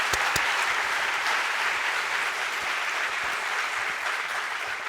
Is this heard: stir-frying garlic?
no